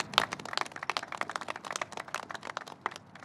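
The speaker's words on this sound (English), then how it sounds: "Let's give them a round of applause" Applause from a modest outdoor crowd honoring bridge construction workers at a New NY Bridge milestone event, scattered sharp claps in an irregular patter, moderately quiet and thinning toward the end.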